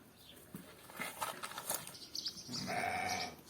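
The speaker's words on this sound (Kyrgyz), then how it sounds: "6 айлык козу кочкор" A six-month-old ram lamb gives a faint, short bleat near the end of a quiet stretch, preceded by soft rustling and shuffling of livestock.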